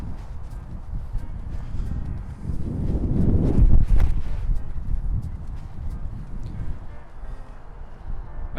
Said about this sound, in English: wind showing straight at the face right now